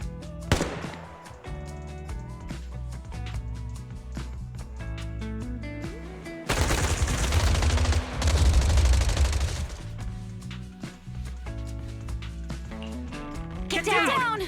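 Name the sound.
gunfire, suppressive marching fire in video game Zenless Zone Zero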